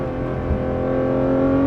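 Porsche 991.2 GT3 RS with a 4-liter flat-six and side muffler delete, a loud, steady engine drone held close and continuous with a slight rise toward the end, no talk.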